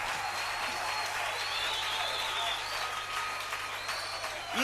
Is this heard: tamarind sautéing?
no